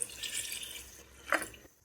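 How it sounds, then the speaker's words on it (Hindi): A glass of water poured into a pot of rich chicken Patiala gravy with almond-cashew paste, a brief close splash and trickle that fades after a second or two. "अब हम इसमें 1 गिलास पानी ऐड करेंगे।"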